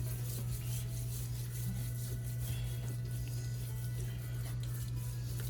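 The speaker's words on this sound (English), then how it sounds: "it's a rub, so we're gonna rub that in" Spice rub is worked into raw ribs by hand, giving a soft, continuous close-up rasping and rubbing under a steady background hum.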